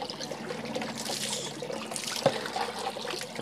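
Water trickles and splashes as a dog's face is rinsed during a bath. A soft, continuous wet wash runs throughout, with one small, close splash partway through.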